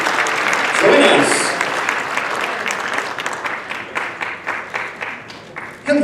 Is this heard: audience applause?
yes